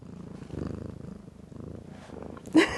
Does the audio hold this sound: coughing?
no